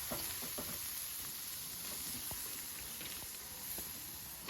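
Carrots and almonds fry in ghee in a kadai, giving a faint, steady sizzle with soft scattered pops and stirring scrapes and no talk.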